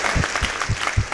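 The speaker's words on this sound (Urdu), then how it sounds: "فردوس جمال صاحب کے لیے بہت ساری تالیاں" Applause for the actor Firdous Jamal on a talk show set, a short burst of clapping with several distinct claps in a regular rhythm, fairly close and brief.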